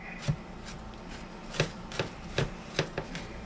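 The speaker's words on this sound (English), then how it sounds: "that's easy enough to do with a good sharp chef's knife. You just sort of rock it" A sharp chef's knife rocks through garlic on a board, giving a string of crisp, close chops in an uneven rhythm with short pauses between bursts.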